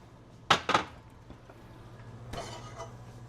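A spoon clanks and scrapes against a pot of fried chickpeas in a kitchen, two quick sharp metallic knocks followed by a softer scrape and rattle, close and fairly loud.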